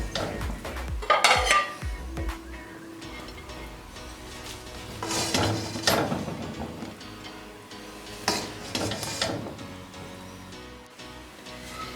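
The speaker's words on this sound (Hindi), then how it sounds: "अब इसे हम डिश आउट कर लेंगे।" Chicken yakhni pulao being dished out of a cooking pot, with a spoon scraping and clinking against metal in scattered bursts and soft rustles of rice, close and alone without talk.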